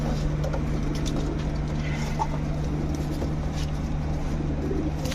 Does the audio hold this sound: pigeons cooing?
yes